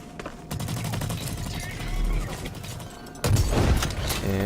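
A bolt-action rifle in Blacklight Retribution on PS4 fires amid a dense, continuous wash of game battle noise, with a heavier burst near the end and a voice talking over it.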